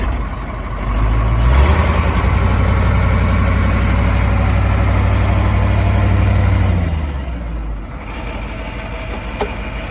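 Diesel engine of a 1975 Ford 8000 truck idling, a loud steady low rumble that holds evenly for several seconds, then drops away and settles near the end.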